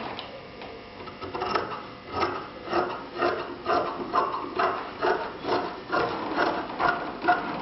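Scissors cut through fabric for a classic skirt pattern, making close, steady snips that repeat about every half second, with soft rubbing of the cloth and no voices.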